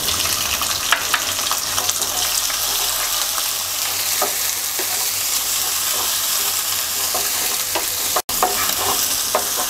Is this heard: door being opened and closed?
no